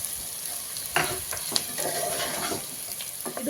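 Food fries with a steady sizzle in a non-stick pot while a spoon stirs it, scraping and clinking against the pot in irregular strokes close by.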